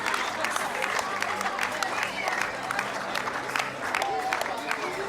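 Stadium crowd at Kafika stadium during the Mini Games closing ceremony in Wallis and Futuna, applauding the Samoa delegation as it parades past. Steady, dense clapping and crowd noise runs unbroken throughout.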